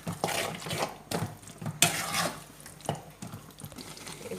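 A mushroom chili being stirred and mixed in a pan, with repeated scraping and clattering of a utensil against the metal and a faint sizzle underneath, close and moderately loud.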